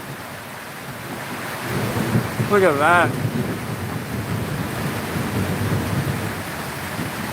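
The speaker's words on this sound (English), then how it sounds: "There's some power in this storm" Thunderstorm over ironstone ground, with steady heavy rain and wind throughout and a loud rolling thunder crack swelling near the middle; a voice speaks briefly over the storm.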